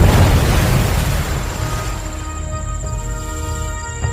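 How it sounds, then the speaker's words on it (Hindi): A loud booming blast opens, then its rumble decays into a lingering low roar with a faint high ringing tone. "रुकते ही जमीन पर जोरदार धमाका हुआ"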